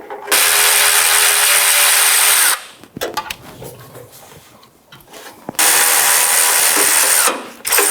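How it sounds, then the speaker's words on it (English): Bolts on a Nissan Maxima power steering line bracket being driven out with a 10mm socket on a swivel and 3/8 extension, in two loud sustained whirring bursts of a power tool with quieter clicking and handling between them. "with a 10mm socket, I'm using a swivel with a 3/8 extension. You're going to remove these 2 bolts right here."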